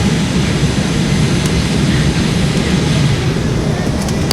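Airliner jet engines in flight aboard an American Airlines regional jet, a steady loud broadband roar with a low rumbling drone that holds constant throughout.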